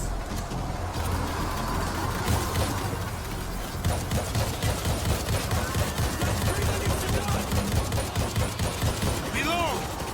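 Rapid gunfire rattles through a video game shooter battle, loud continuous bursts with vehicle rumble underneath and voices talking over the fighting.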